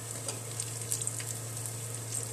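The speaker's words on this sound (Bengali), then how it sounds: "এদিকে বড়াগুলো হয়ে আসছে, বাদামি করে ভাজতে হবে" Banana fritters (kola pitha) fry in hot oil, a faint, even bubbling sizzle with a low steady hum underneath and scattered small pops.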